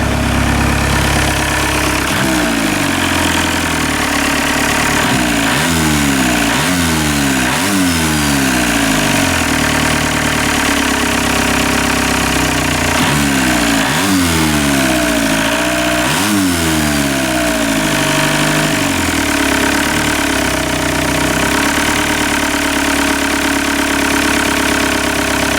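A VW Golf 1 with a swapped 1.9 TDI diesel engine rumbles loudly up close, settling into idle between several revs that rise and fall, with a steady turbo-like whoosh throughout.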